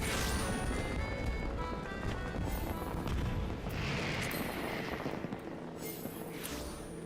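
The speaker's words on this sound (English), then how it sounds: "the fireworks are hidden behind this" Fireworks in Final Fantasy XIV during a seasonal event, a stretch of booming, crackling bursts and rumbling blasts that rise and fall over several seconds with no voices.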